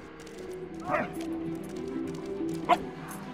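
A dog in the World War I video game Valiant Hearts gives two short, high whimpering yips about two seconds apart, over a quiet, droning game background.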